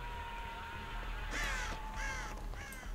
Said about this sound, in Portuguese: Caraca, passei perto do corvo.